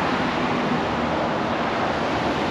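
Rough sea surf breaks on a rocky shoreline during a storm at a surfcasting fishing spot, a loud, continuous roaring wash of waves with steady wind noise and no letup.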